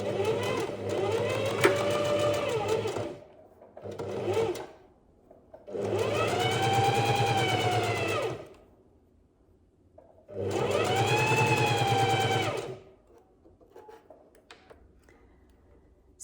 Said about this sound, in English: I'm going to stitch all the way around just the first layer of ruffles on each leg.